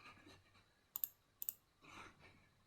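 Two quick, faint mouse clicks, about half a second apart, ring out at a computer during a screen walkthrough, with soft room noise and breathing around them.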